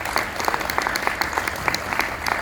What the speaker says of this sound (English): A round of applause for Randy.